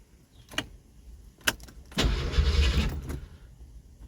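A 1968 Ford LTD with a 428 V8 and a starter delay relay cranks and fires after a couple of faint clicks, the engine catching into a short, rough burst before settling, heard fairly quietly.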